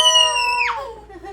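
A young child opening birthday gifts gives a loud, sustained, high-pitched scream that holds for most of a second before dropping sharply in pitch and trailing off, heard up close with no other voices.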